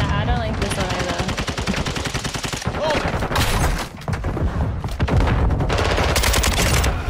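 Rapid automatic gunfire from a Kastov 762 AK-style rifle in a first-person shooter game, loud sustained bursts with short pauses and a clatter of impacts and effects around them.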